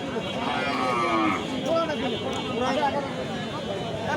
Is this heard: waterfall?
no